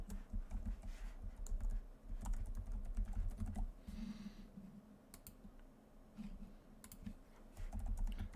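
Rapid keystrokes on a computer keyboard enter a host domain name while setting up a VMware vSphere lab, with steady close clicking over a low background hum.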